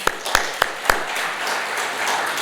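A church congregation at a Sunday worship service claps in praise: a few sharp, distinct claps ring out near the start, then blend into a softer, steady patter of applause.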